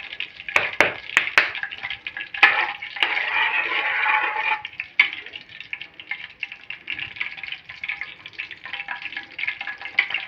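Chicken curry is stirred in hot oil in a pan, giving a steady close sizzle and frying hiss with a few sharp scrapes near the start and no talk.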